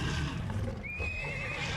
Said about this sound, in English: you can, for instance, rear kick with a horse